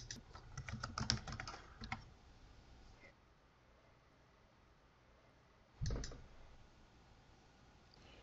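A password is typed on a computer keyboard: a quick burst of close key clicks, a pause of faint room hiss, then a few more keystrokes, quiet and with no talking.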